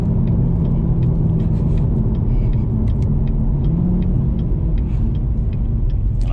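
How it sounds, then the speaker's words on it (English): A 2019 Corvette ZR1 rumbles with a steady, loud engine and exhaust drone from inside the car, with only faint, scattered crackles and pops over the low roar. "I hope y'all can hear that crackle and pop."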